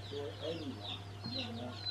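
Chicks and chickens peep and cluck close by, high chirps over lower clucking notes, above a steady low hum with faint voices in the background.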